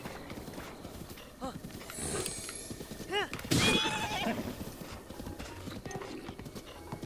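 Rhythmic hoofbeats from The Legend of Zelda: Breath of the Wild clip-clop at a steady gait, with a brief neigh and a few game-like chimes mixed in.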